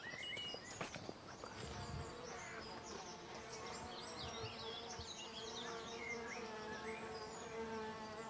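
Bees and other pollinators buzz busily among flowering apple trees in a garden, many overlapping drones close by, with birdsong in the background.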